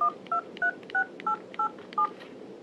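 A Japanese Sidekick phone's keypad sends out seven short, evenly spaced dual-tone beeps as a number is dialled, clear and close against a quiet background.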